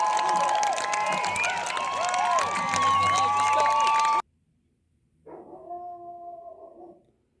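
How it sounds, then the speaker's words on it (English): A dog howls and whines in a long, wavering cry over a dense noisy background, then after a brief silence a shorter, quieter howl follows. "sorry about the dog barking"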